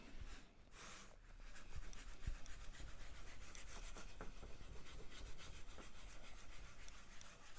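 A scouring pad rubs Odie's Oil finish into a wooden surface with quiet, close, continuous scrubbing strokes and faint scratchy texture. Occasional light taps sound, and there is no talk.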